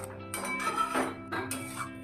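Bean mash for shim bhorta stirred in a metal pan, giving close scraping strokes and light clinks of the spatula against the pan, with no talk.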